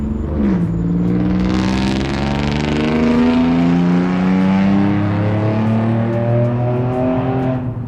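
A loud Lexus RC F sports car exhaust roars up close, its revs climbing and dropping through eight seconds of raspy, continuous engine noise.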